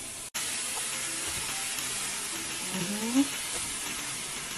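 Vegetables sizzle and hiss in a hot pan while oyster sauce goes in, a steady close frying noise with a brief louder spatter near the end.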